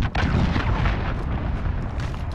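Heavy booming blasts and a rumbling launch from a cruise missile strike in Call of Duty: Modern Warfare AC-130 gunship gameplay, a dense continuous roar of explosions filling the whole stretch with no voices.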